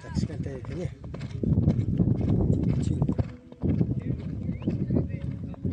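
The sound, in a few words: grey horse galloping in a horse race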